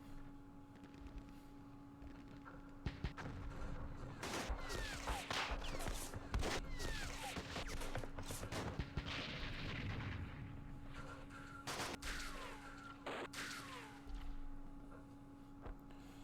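Artillery and gunfire rumble in the Campaign Series East Front war game, with scattered sharp blasts and distant booms over a steady low hum, faint and alone.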